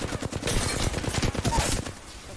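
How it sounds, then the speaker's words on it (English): Rapid bursts of automatic gunfire in a shooter video game, dense overlapping shots crackling loud and close for most of the span before tapering off near the end. "Opening fire."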